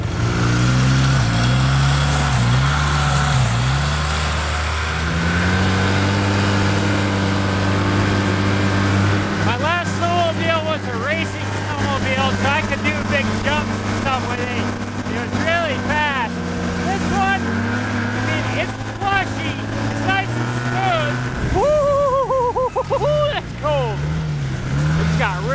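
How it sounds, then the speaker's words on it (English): Four-stroke snowmobile engine warming up and then running, a steady close drone with several rising and falling throttle swells, while someone talks over it throughout. "Never ridden a four-stroke snowmobile before."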